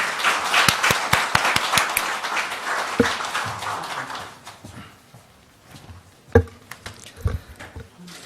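An audience at a public policy forum gives a speaker dense applause that tapers off after a few seconds into scattered individual claps and faint shuffling.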